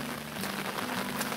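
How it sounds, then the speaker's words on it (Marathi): Steady rain patters on flooded rice paddy fields in rural Konkan during planting season, a dense continuous hiss of drops close by with no voices. "तर आता परत पाऊस लागायला सुरुवात झाली."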